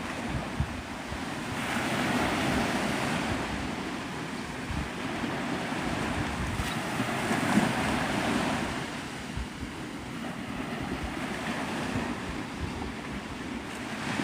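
Ocean waves wash steadily onto the beach at Navarre Beach, Florida, at sunrise, a continuous broad surf roar with gentle swells and some wind rumble on the microphone, no voices.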